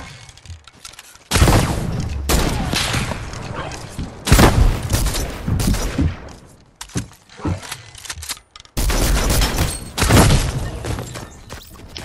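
Infantry rifle fire in a video game, with loud, heavy bursts of shots separated by short pauses, each burst booming and rattling close up over the game's background noise.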